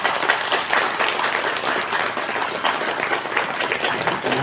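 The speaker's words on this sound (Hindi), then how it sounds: "तो एक बार अपने लिए ताली बजा दी अच्छे से।" A live yoga session audience claps together in a dense, sustained wash of applause that holds steady and loud for several seconds without talk.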